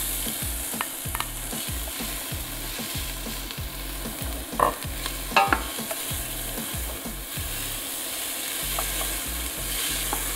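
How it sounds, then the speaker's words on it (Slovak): Onion fries in heated olive oil from Italian-grown olives, a constant close sizzle with repeated rhythmic stirring scrapes and a couple of sharper clicks from the utensil midway, no talking. "kým sa nám bude opekať cibuľa"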